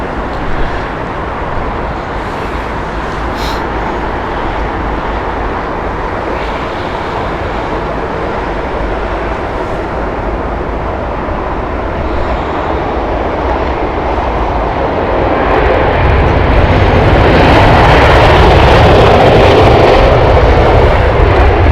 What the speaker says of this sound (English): behind that we have Avianca with the Bogota flight as well, with their 787 Dreamliner